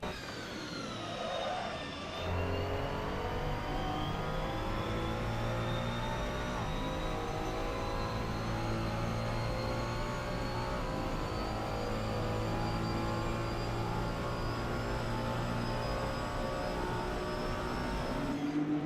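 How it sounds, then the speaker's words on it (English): Ferrari 296 GT3 racing car in the Assetto Corsa game at Zandvoort, a loud sustained engine drone that climbs steadily in pitch after a brief gear change near the start, continuous with no talk. "So that was a lap at Zandvoort with the Ferrari 296 GT3"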